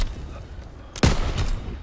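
A single sharp gunshot burst cracks out mid-clip over a low rumbling battle backdrop in the World War II shooter game Call of Duty: WWII, loud and close with a brief ringing tail.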